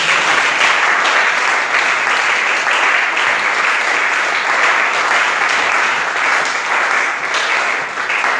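A church congregation applauds, a loud and steady wash of clapping from many hands that carries on unbroken for the whole stretch.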